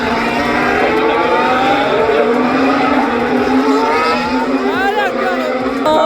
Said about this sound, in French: Et 3 voitures qui rentrent dans les stands actuellement